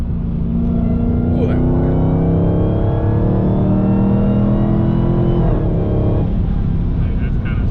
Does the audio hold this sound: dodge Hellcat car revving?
yes